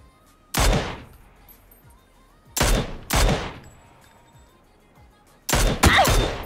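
Video game gunfire sounds in four sharp, loud shots. Two are spaced apart, two come close together, and the last is a quick double burst, with quiet gaps between them.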